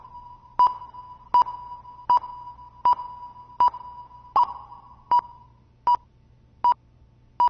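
A repeating electronic ping sounds at a steady rhythm, about once every 0.75 seconds, inside a Unity game reverb zone at full reverb, each ping trailing a short tail over a low steady hum.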